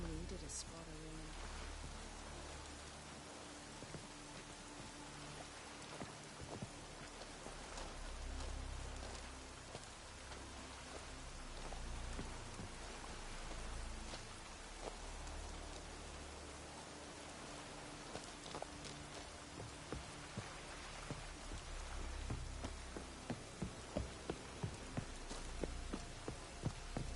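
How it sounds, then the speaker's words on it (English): Rain keeps falling in The Witcher 3, a soft, constant hiss of drops over a low background rumble, with occasional taps and what sound like footsteps near the end, while a voice speaks over part of it. "Maybe we needed a spot of rain."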